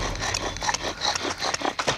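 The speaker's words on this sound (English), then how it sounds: "I do the partner method of using a bow drill." A wooden bow drill is sawed back and forth by a pair of people trying to start a fire, making a continuous, close, rasping friction scrape with rhythmic strokes and no speech.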